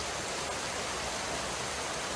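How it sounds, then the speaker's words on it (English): Water flows steadily down a stream, a constant rushing wash like a small waterfall, even in level with no breaks and no voices. "and the relentless movement of water"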